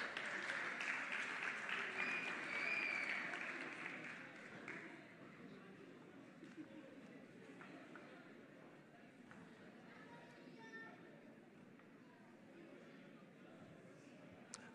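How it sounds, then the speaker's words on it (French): Audience applause at a gospel competition finale, a dense clapping burst that starts loud and then tapers into softer, scattered clapping with murmuring crowd voices. "Est-ce qu'on peut encore applaudir?"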